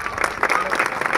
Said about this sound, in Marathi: टाळ्यांचा कडकडाट झालेला